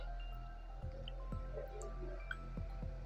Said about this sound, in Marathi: अगदी छान मोठे बुडबुडे त्याला येतात.